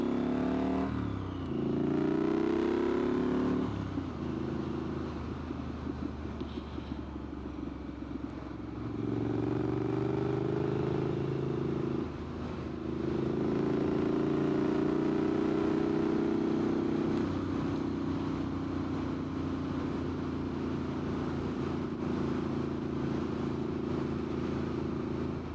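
A Triumph Street Scrambler motorcycle rides on, its engine revving up and settling as it shifts through gears, a steady close motor drone with brief dips between gear changes.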